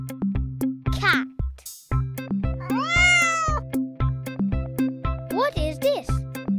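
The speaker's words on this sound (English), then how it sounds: "What is this? Cat." A domestic cat meows loudly and clearly several times, with long rising and falling cries over a steady repeating rhythmic backing beat, in a children's animal-sounds lesson.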